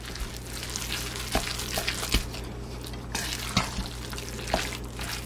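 A wooden spoon works through a raw turkey burger mixture seasoned with garlic salt, giving soft wet squelching and scraping strokes with a few sharper knocks against the bowl, close and quiet.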